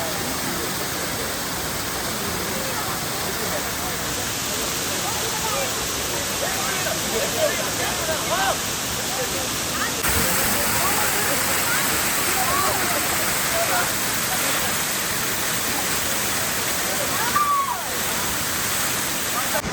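Manthoka Waterfall in Skardu roars continuously, a loud broadband rush of falling water close by. A voice speaks faintly beneath it.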